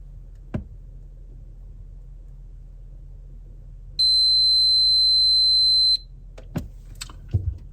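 After a few faint clicks in a quiet room, a water filter kettle's single high-pitched timer-reset beep sounds steadily for about two seconds, followed by light tapping noises.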